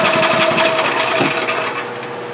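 A gas engine on a 2010 EZGO RXV golf cart runs with a steady, buzzing, slightly rattly drone throughout, close and loud, with no talk.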